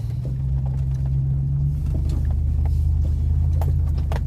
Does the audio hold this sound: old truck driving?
yes